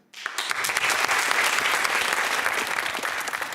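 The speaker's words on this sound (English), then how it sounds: "Nice of you to applaud each other." Quiz show studio audience and competing university teams break into sudden, sustained applause that starts sharply and holds at a steady, dense level throughout.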